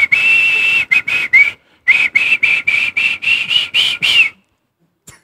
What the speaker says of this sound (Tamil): இப்ப வாயிலே விசில் அடிச்சு அது என்ன பாட்டுன்னு கண்டிப்பா கண்டுபிடிக்க மாட்டோம்